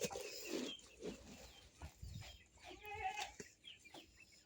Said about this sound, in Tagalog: Ayan po yung mga alagang bibe at itik.